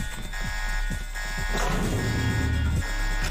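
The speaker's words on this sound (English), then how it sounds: "that might be because of the alarm here" A steady electronic alarm buzzes in the video game Deus Ex, a constant high tone running throughout under thudding footsteps and a louder rumbling swell in the second half.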